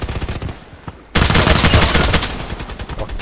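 An AUG A3 assault rifle fires in the Contract Wars shooter game: rapid, loud, close shots in a quick run, dense cracks packed together with a brief pause before a second, heavier volley.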